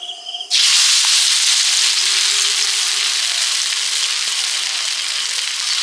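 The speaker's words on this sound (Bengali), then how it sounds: "ডালের বড়াগুলো ভাজা শুরু করছি" Lentil fritters (dal bora) fry in hot oil in an outdoor kitchen at night, giving a loud, steady sizzle with a rushing hiss that starts abruptly and carries on unbroken, with no voices over it.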